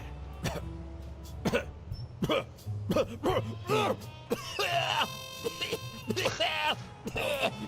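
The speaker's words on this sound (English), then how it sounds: "You've got one nasty cough." Repeated harsh coughs and throat-clearing in a video game come in bursts, with groans and voices talking in between.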